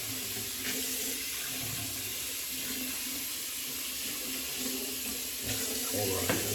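Tap water runs steadily into a sink while a shaving brush is rinsed, a continuous close hiss with brief splashy changes as the brush moves under the stream.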